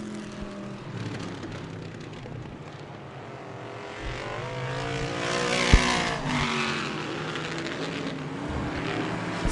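Vintage race cars circle the track at Merrittville Speedway, their engines roaring and rising in pitch as they pass at mid distance, with a sharp knock midway and steady crowd-like background.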